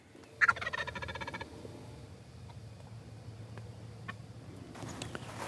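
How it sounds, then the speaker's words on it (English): Wild turkeys gobbling at close range in the woods: one loud, rattling gobble near the start, then quieter low calls and soft rustling against a faint background hum. "so many turkeys in this close"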